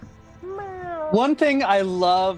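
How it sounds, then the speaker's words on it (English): A large house cat meows repeatedly nearby, drawn-out tonal calls rising and falling over about two seconds, with a person speaking at the start. "You can hear it like kind of like meowing."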